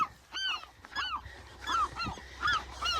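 Several seagulls on Anacapa Island call over a couple of seconds, making a run of nasal, honking cries. Some sound near and some farther off, at a moderate level, with no voices.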